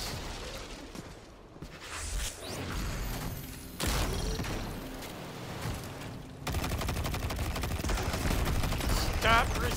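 Rapid gunfire bursts and booming shots from a Destiny 2 firefight, loud and dense across the whole stretch, with a brief whoosh or two and some speech mixed underneath.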